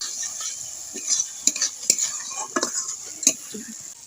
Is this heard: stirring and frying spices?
yes